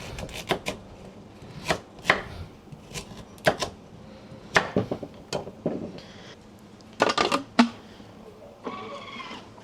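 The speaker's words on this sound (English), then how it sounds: "Diced up nice and fine, just like that, to go into the gyozas." Large carrots are diced finely on a board with a knife for gyoza filling, heard as close, sharp, irregular chopping taps in short bursts with brief pauses between.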